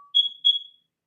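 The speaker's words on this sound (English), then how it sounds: "there was an alarm that just went off" Two loud, shrill electronic beeps from a smoke alarm going off indoors, each about a quarter second long, then silence.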